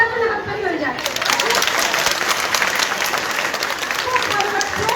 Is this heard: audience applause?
yes